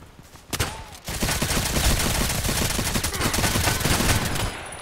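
Rapid gunfire from a gun fired from the hip in the shooter game Contract Wars, loud and sustained for several seconds after a few single shots, with no talking.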